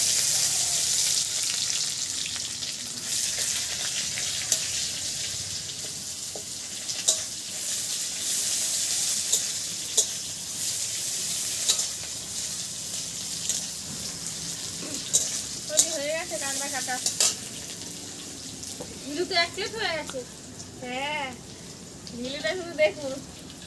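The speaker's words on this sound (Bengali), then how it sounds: "এবার দুটো তেজপাতা ফোড়ন দেব একটু জিরে আর পেঁয়াজগুলো একটা পেঁয়াজ কুচিয়ে রেখেছি দিয়ে দেবো" Bay leaves, cumin and chopped onion fry in hot oil, giving a continuous close sizzle with stirring knocks and scrapes; a voice talks over the frying toward the end.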